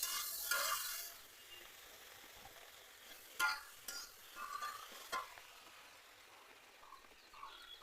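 A ground paste of ginger, cumin and fennel hits a pan and fries, opening with a brief loud sizzle that settles into quieter frying, with scattered utensil clicks and scrapes.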